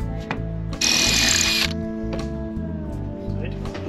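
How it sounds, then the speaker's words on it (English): A short, loud burst of a power drill drilling out a lug with an 8mm bit, whirring for under a second, close by, with engine-like hum and low talk around it. "I'm just going to drill this out with a 8mm"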